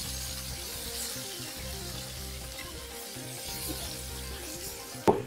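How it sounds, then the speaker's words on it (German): Surf and turf patties sizzling in a hot frying pan, a steady close crackle of browning with a sharp clatter near the end. "Jetzt braten wir die noch von der anderen Seite kurz an"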